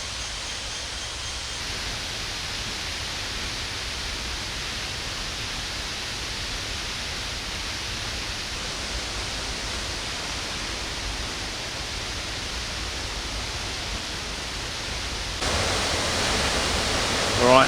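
Four Sisters waterfall in southern Laos, seen from a jungle trail: a steady broadband rush of falling water, moderately distant and unbroken, swelling louder near the end.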